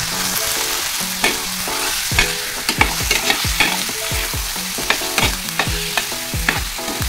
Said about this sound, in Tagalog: Haluin lang natin para ma-mix ang ating mga pagisa sa ating giniling.